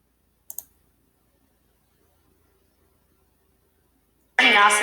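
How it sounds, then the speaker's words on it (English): Computer mouse double click, two quick sharp clicks near the start followed by near silence, then a voice starts speaking at the end. "So let me click onto this"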